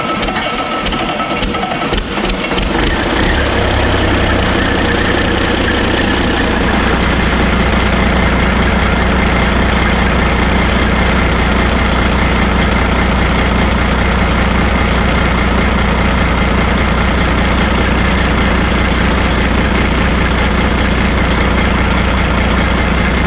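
An old Caterpillar diesel engine cranks with ragged bursts for several seconds, then catches and settles into a loud, steady low rumble at idle that continues without break.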